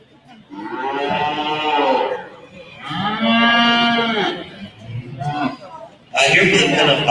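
Cattle low in long, drawn-out moos at a county fair calf and dairy show, with two big calls followed by a shorter one. Crowd chatter and a voice come in at the end.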